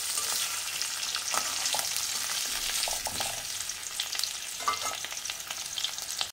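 Potatoes frying in oil in a wok while preparing duck egg biryani, giving a steady, close, bright sizzle that carries on without pause for the whole stretch, with no voices.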